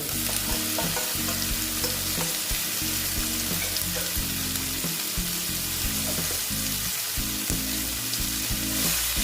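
Besan-coated okra fries slowly in hot oil in a pan, giving a continuous dense sizzle with occasional stirring clinks and scrapes, close up and with no voices.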